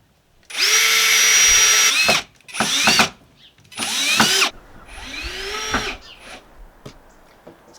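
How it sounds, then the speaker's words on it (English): Cordless power drill driving screws through a bed frame into its wooden legs, several bursts of whining motor, each rising and slowing as the screw seats, with short pauses between. "I can screw this in at certain places"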